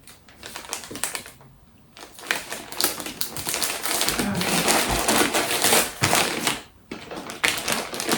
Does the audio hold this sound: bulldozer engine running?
no